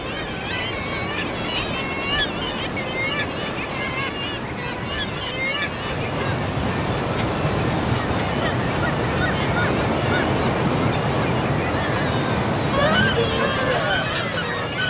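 Hundreds of nesting kittiwake pairs crowd steep cliffs and rock ledges on the Norwegian coast, their shrill calls overlapping into a loud, continuous chorus above the steady wash of surf.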